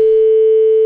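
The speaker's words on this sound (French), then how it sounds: "Deuxième sonnerie." A single steady telephone ringing tone sounds during a call, loud and unbroken, with no voices.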